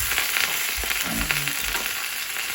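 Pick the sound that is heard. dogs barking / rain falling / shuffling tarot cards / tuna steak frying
tuna steak frying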